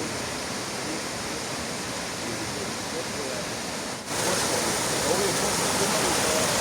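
A small waterfall at the clear-water Duman spring on the Bosnia–Croatia border makes a steady, broad rush of falling water, close and constant, growing slightly louder partway through.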